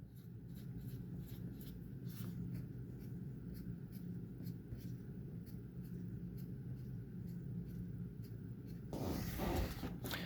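Steady scratching and tapping strokes of drawing a tree diagram on a board, continuing in short, close bursts throughout with no talking and a brief louder scrape near the end.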